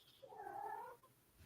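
A cat lets out a single drawn-out, wavering yowl, close and fairly quiet, with a brief rustle at the end.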